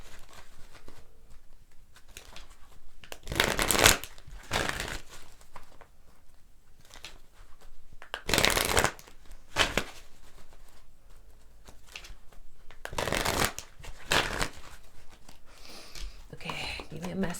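A law of attraction oracle card deck is shuffled in repeated bursts of papery riffling and slapping, close and fairly loud, separated by quieter gaps with light handling noise.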